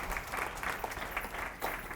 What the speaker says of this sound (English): Yes, give us a clap.